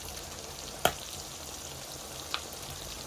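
Egg frying in a pan with salt and pepper sprinkled over it, a steady soft sizzle throughout with two brief sharp ticks, the first louder; no voices.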